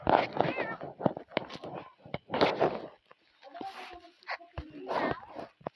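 A cat in a video game meows loudly several times in drawn-out, wavering cries, with soft rustling and clicking noises between them.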